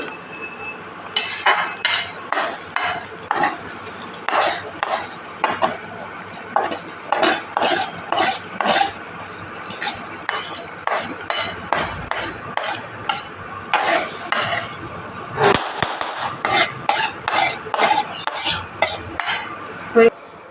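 Govindobhog rice for khichuri is stirred in a cooking pot, a metal spoon scraping and clinking against the sides in quick, steady strokes that run the whole time.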